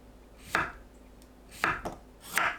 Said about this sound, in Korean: 오이 끝을 제거하고 1cm 두께로 썰어주세요.